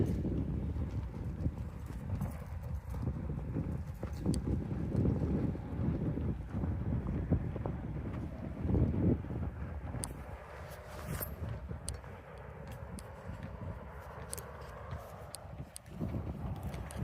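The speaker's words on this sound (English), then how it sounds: "It's very windy." Strong wind buffets the microphone outdoors on a disc golf course, producing a continuous low rumble with gusts that swell and fade across the whole stretch.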